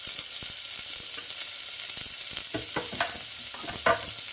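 Cooking oil sizzling steadily with mustard seeds, chopped garlic and onions in a pan, broken by repeated scraping stirs that grow busier toward the end, close and moderately loud with no talking.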